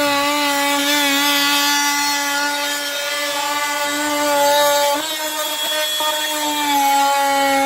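A power tool cuts through material during a full-foam hot tub leak repair in freezing winter, a steady high whine rich in overtones that dips briefly in pitch as the blade loads, loud and close with no talk.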